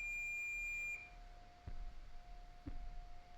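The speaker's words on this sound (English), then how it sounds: "why does it sound like my microwave was just going off?" A steady electronic beep tone holds for about a second, then cuts off, leaving a quiet hum with a couple of soft thumps.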